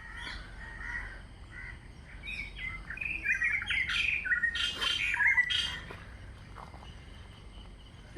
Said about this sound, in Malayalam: എന്തൊക്കെയോ വെറൈറ്റി വെറൈറ്റി ആയിട്ടുള്ള കിളികൾ വിളിക്കുന്നുണ്ട്